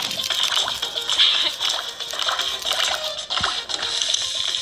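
Splashing water sounds play while hair is shampooed and showered in the mobile game Toca Hair Salon 3, a continuous bright, fizzy spray with uneven surges, close and fairly loud.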